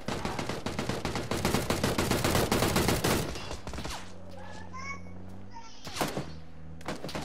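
Rapid automatic gunfire in PUBG crackles loud and close for about three seconds, then gives way to a few scattered shots, thumps and lighter game effects.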